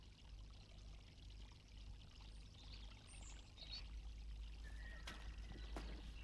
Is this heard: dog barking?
no